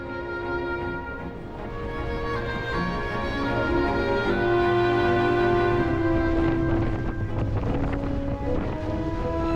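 Wind in Antarctica, a steady, fairly loud rushing roar that swells in the middle, with faint tonal hums beneath, no voices.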